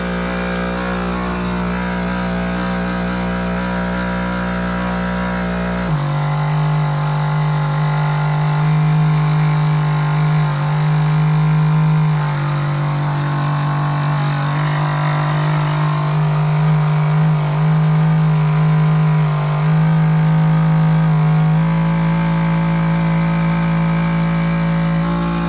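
A Gerard Morin electrical pump runs steadily, powering a fan and a standard bulb, its loud tonal motor hum shifting pitch slightly after a few seconds and then holding.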